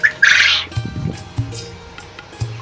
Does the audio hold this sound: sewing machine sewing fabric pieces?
no